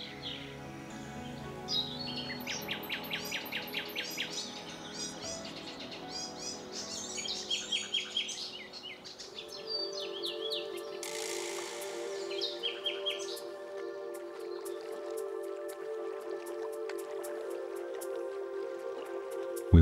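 Several species of birds sing and chirp in a riparian forest along the Vistula in Warsaw, overlapping trills and repeated whistled phrases, moderately near, with a steady low drone underneath and no voices.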